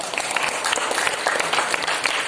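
Students at a school talk in SMK Muhammadiyah 2 Samarinda break into a thick, continuous round of applause, many hands clapping at once in a busy, room-filling roar.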